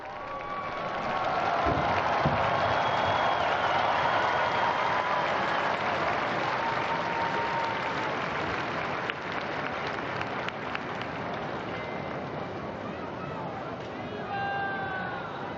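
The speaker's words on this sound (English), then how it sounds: "a warm round of applause as Pope Francis appears" A large crowd applauds and cheers as Pope Francis appears at the window of the Apostolic Palace for the Sunday Angelus, a dense, sustained roar of clapping from a distant square with murmuring voices mixed in.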